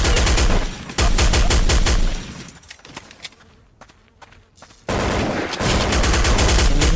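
Dense rapid gunfire from Counter-Strike: Condition Zero, a loud, ridiculously overpowered gun firing in bursts, dropping to quieter scattered shots and footsteps mid-way before a heavy automatic volley resumes.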